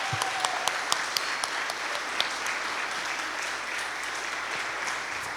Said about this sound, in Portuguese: Aplauda o Senhor por esses dois queridos aqui.